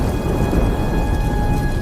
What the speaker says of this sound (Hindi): बाहर मूसलाधार बारिश थमने का नाम नहीं लेती